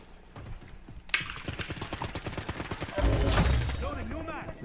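Rapid bursts of fireworks and gunfire crackling in a Call of Duty battle royale match, dense popping volleys that swell into a heavier rumbling blast near the end.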